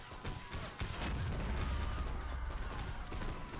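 Napoleonic Wars line battle in the Heroes of the Napoleonic Wars mod, a dense crackling volley of musket fire with heavy artillery booms, loud and continuous.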